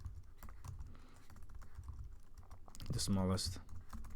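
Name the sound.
typing on a computer keyboard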